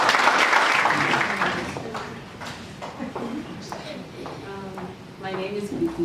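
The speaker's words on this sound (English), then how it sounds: "And can you clap again your hand for the Lord Jesus?" A church congregation claps during a testimony service, with a burst of dense applause at the start that thins to scattered clapping before swelling again, mixed with voices.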